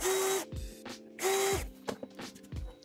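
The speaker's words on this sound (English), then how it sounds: "drill a couple pilot holes that I need for these" A power drill boring pilot holes, guided by a jig, while building a vanity: two close, loud bursts of motor whine that climb in pitch, each about half a second, with short clunks and handling noises between.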